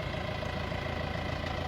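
A tractor engine runs steadily while clearing trees near a garden greenhouse, a continuous close low rumble with an even mechanical throb.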